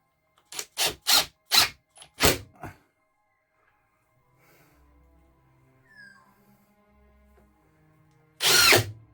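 A power drill drives screws into a pull-out pantry in a pop-top caravan, several short loud bursts in quick succession, then quiet clicks and faint handling noise before one final longer burst.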